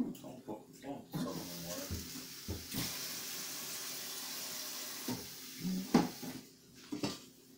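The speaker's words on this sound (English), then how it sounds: "Then you need to simply get some water." Tap water runs into a cooking pot at a kitchen sink, a steady rushing fill lasting several seconds, with clinks of the pot and cupboard knocks around it while someone talks.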